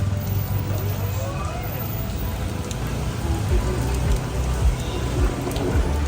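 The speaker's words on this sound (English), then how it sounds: "it's raining so hard right now" Heavy rain pours down in Phuket, Thailand, during the rainy season. It makes a dense, steady hiss and patter of drops on surfaces, loud and continuous throughout.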